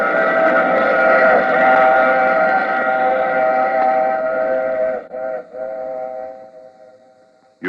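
A radio drama sound effect of a running train: a loud, steady whistle-like drone of layered tones over low rumble, which briefly dips and then fades out.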